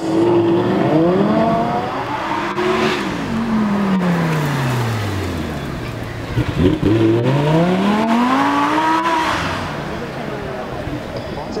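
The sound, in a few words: Audi R8 car driving off and accelerating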